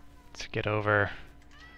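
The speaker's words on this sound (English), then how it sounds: "You can probably hear my cat in the background." A pet cat gives one drawn-out, rising and falling meow in a room, fairly close and clear, while someone speaks briefly just before it.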